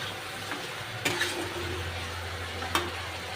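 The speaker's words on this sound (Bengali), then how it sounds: "ভালো করে নেড়ে চেড়ে নেব" Mutton curry stirred in a pan with its liquid cooked off, a steady low sizzle beneath a few sharp scrapes and clinks of the spoon against the metal.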